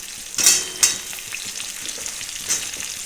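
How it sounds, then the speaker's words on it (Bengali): Cut potatoes drop into hot oil in a pan where drumstick pieces are already frying. A steady close sizzle runs throughout, with a few sharp louder bursts as pieces hit the oil and are stirred. "এর মধ্যে কেটে রাখা আলুগুলো দিয়ে দেবো"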